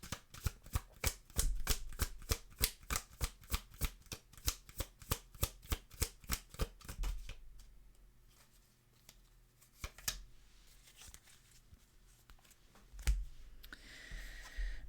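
Oracle cards shuffled in a quick, steady riffle of crisp paper slaps for about seven seconds, then quieter sliding and a few scattered flicks as cards are drawn.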